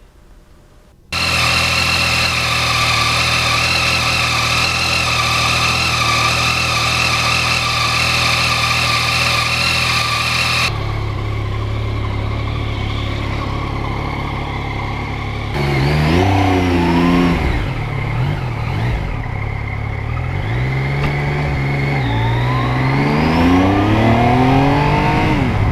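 Yamaha MT-09 naked motorcycle ridden on a winter road, a loud steady engine drone with changing pitch and heavy wind buffeting, the tone shifting as the bike accelerates and slows.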